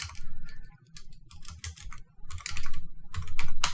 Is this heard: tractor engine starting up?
no